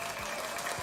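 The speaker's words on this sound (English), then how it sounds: "Everybody, please give him a round of applause." Applause from a room of fans greeting guest Danny J. Quick, a steady dense patter of clapping filling the whole short moment at moderate level, no talk over it.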